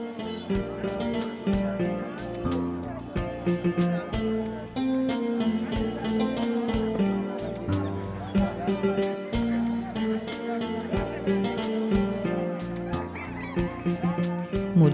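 Ducks and chickens at a busy village market in Sirajganj honk and squawk repeatedly over a crowded background, with a narrator's voice talking over the bird calls throughout.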